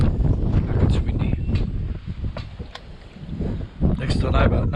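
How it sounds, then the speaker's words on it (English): Gusty wind buffets an outdoor microphone at a gold prospecting spot, a loud continuous low rumble that swells and dips, with a strong surge near the end. "It's windy."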